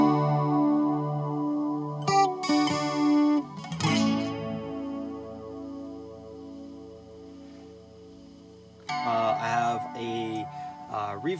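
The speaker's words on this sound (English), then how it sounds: "Nice warm chorus setting there." Electric guitar played through a Donner DGA 1 effects unit on a warm chorus setting, sustained shimmering chords that waver and swell, with a few plucked notes and strums between them, no talking.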